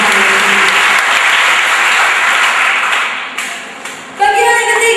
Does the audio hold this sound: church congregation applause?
yes